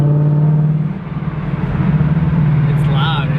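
A 2017 Ford Mustang engine runs loud and close, a strong steady low drone that dips briefly then swells back, while people talk over it.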